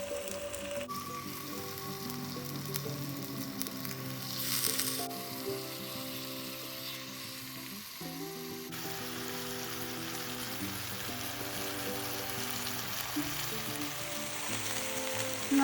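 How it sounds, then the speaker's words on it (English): Chicken breasts sear in a hot pan with a loud, continuous sizzle and crackle that holds steady for the whole stretch, close by and without talk. "And now we can sear our chicken breast."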